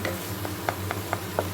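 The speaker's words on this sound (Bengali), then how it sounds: "মশলাটা ভাজা ভাজা হয়ে গেল" Spice masala frying in a pan for a paneer dish, with a low steady sizzle and regular soft scraping strokes of a spoon stirring about every quarter second, close and without talk.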